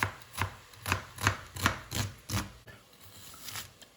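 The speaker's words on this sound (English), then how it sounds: "I'm gonna start slicing the onions" A knife slices onions on a cutting board for a simple veggie soup, giving about seven crisp, evenly spaced chops close to the listener, then a brief quieter pause.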